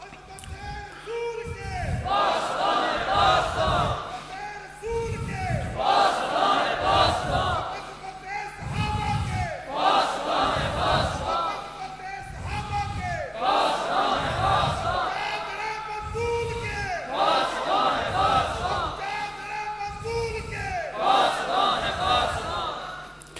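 A large crowd at a religious conference in Islamabad chants slogans in loud call-and-response bursts. A leader calls out and the massed voices roar back, repeating in a regular rhythm about every four to five seconds.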